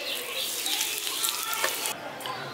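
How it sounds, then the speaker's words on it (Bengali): Whole spices with asafoetida sizzle gently in a hot pan for a village-style vegetable labra, a soft continuous hiss at moderate distance with faint scraping. "এগুলো দিয়ে দেওয়ার পর হালকা একটু ভেজে নিচ্ছি"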